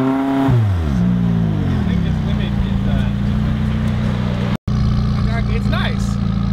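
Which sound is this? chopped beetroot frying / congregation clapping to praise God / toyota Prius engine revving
toyota Prius engine revving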